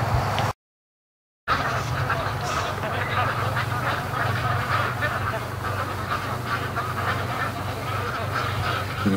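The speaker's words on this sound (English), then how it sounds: "You can hear the ducks moving down the creek." Muscovy ducks quack repeatedly in the background over a steady outdoor noise floor along a creek, with a brief gap of silence near the start.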